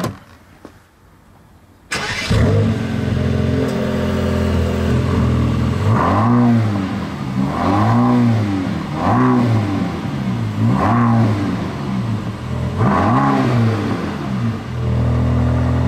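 A Mercedes-AMG GT Black Series V8 starts with a sharp bark, then revs repeatedly in rising and falling swells over a steady idle, loud and close, with no voices.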